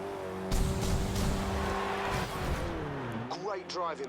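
Ford race car in the Forza Horizon 2 driving game, engine held at a steady high revving tone, then shifting and dropping, followed by rapid rising revs and gear changes, with someone talking over it.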